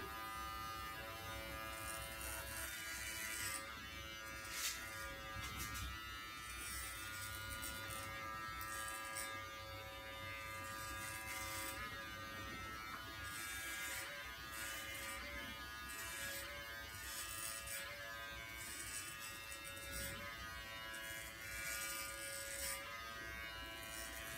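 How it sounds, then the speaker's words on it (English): A Brio Beardscape electric beard trimmer fitted with a 15mm attachment buzzes close up in a steady, continuous hum with a slight rise and fall as it moves over the beard. "I'm using the Brio Beardscape Beard Trimmer"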